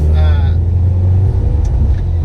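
Mitsubishi Galant VR-4 with a competition twin disc clutch and welded diff driving along, a steady low engine rumble and road drone filling the cabin, with a brief whine early on.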